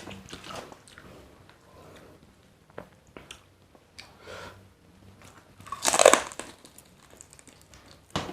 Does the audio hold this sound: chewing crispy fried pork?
yes